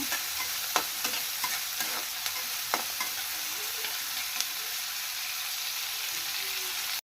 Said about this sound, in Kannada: ಚೆನ್ನಾಗಿ ಫ್ರೈ ಮಾಡ್ಕೋಬೇಕು ಗೋಲ್ಡ್ ಕಲರ್ ಬರೋವರೆಗೂ ಚೆನ್ನಾಗಿ ಫ್ರೈ ಮಾಡ್ಕೋಬೇಕು